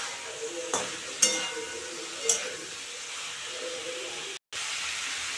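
Dried chilli paste and four green chillies fry in a pan with rui fish and vegetables, giving a steady low sizzle with a few sharper crackles and stirring scrapes, alone without talk.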